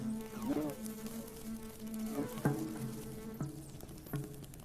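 A bumblebee buzzes steadily up close while pulling a string to reach a nectar reward, its wingbeat drone wavering in pitch with a few louder surges and soft tapping.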